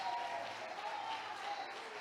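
A church congregation applauds in a brief, fairly faint burst of clapping with a voice faintly present underneath.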